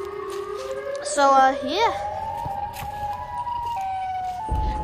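A rising and falling siren wail with warbling electronic tones from a Siren Head video game sounds over a steady synthetic hum, while a young voice speaks briefly.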